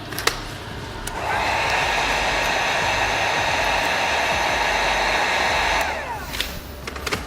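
A heat gun blows a steady, loud whooshing hiss for about five seconds while warming chrome delete vinyl wrap on a Cadillac XT4 side window, with brief handling clicks before and after and no talking.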